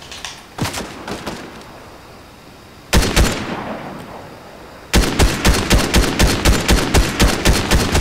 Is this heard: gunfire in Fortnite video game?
yes